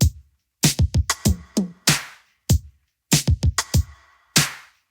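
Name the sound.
Drum beat from a Linn LM1 drum machine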